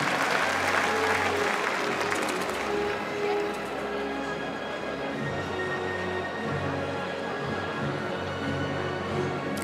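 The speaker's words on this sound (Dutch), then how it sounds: "We nemen afscheid met applaus van Jimte 533." Sustained audience applause during a stallion championship inspection of young studbook horses, dense and loud at first, then continuing a little softer and steady through the whole stretch.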